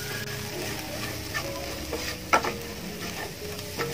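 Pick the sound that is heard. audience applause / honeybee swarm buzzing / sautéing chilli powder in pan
sautéing chilli powder in pan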